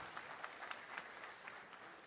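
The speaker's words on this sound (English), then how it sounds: "I think he deserves a big round of applause." Audience at a community gathering with a Telangana minister claps in a soft, steady patter of many hands, fairly distant and faint, lasting about two seconds.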